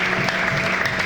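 A church congregation applauding and cheering for the name of Jesus, dense continuous clapping that is loud and close.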